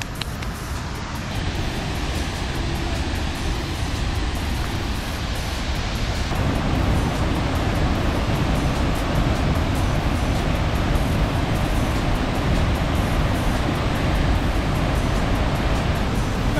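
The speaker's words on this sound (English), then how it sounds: "These waterfalls are amazing." Waterfalls near Quebec City rush with a dense, constant broadband roar, loud and close, swelling slightly fuller partway through and continuing unbroken with no talk.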